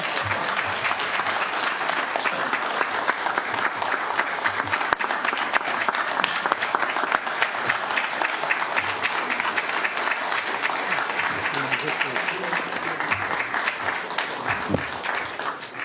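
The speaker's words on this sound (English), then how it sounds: "You can clap now." Audience applause fills a Santa Clarita city council meeting after a vote, a dense steady wash of many hands clapping for about sixteen seconds without letting up.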